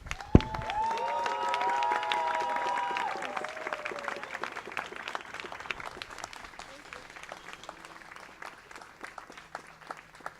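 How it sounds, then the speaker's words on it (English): Wedding guests applaud the bride at a reception, clapping densely for several seconds and then thinning out, with cheers, whoops and chatter mixed in. "please give her a round of applause for all the hard work she did"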